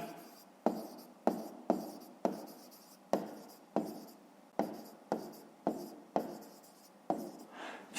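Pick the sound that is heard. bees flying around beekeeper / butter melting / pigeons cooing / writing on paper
writing on paper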